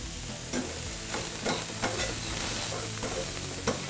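Food browns in a pan for a chicken parm dinner, a close, continuous sizzle and fry crackle broken by repeated scraping stirs from a utensil, with no talk.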